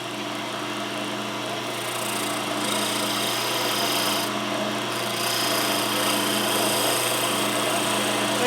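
A wood lathe spins a pen blank with fragile veneer, giving a steady, continuous whirring hum that holds even and moderately loud throughout, with no talk over it.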